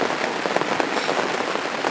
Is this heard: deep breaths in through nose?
no